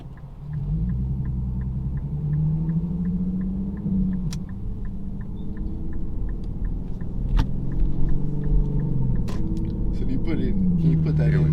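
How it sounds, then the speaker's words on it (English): A tuned Infiniti Q50 in valet mode accelerates at full throttle, its engine giving a steady droning rumble from inside the cabin that rises slowly in pitch, and near the end a voice speaks. "So this is valet mode. This is pedal to the floor."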